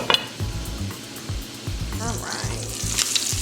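Sausage cooking in a pan, a steady sizzle under a brief spoken remark, with a few light clinks of utensils and pan.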